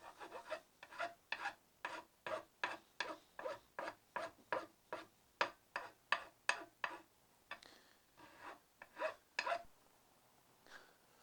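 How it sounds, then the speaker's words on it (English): A hand rasp rounds the palm swell of a wooden axe handle in quick, rhythmic rasping strokes, close and fairly quiet, each stroke a short gritty scrape with brief pauses between. "For the palm swell of the handle, I'm just going to take a rasp and start rounding it off."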